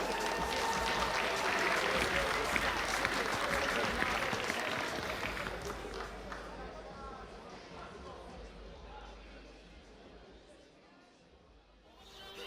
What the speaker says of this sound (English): Andrija Simic, big round of applause.